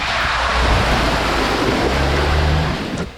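A 2021 Jeep Wrangler Rubicon ploughs through deep water-filled ditches, a loud rushing surge of splashing water and engine drone that fills the scene, easing off near the end.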